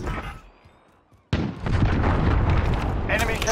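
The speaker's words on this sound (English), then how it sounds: "Enemy cruise missile incoming." A cruise missile explosion in the video game Modern Warfare: a sudden loud blast after a quiet stretch, followed by a sustained roaring rumble and debris noise that holds to the end.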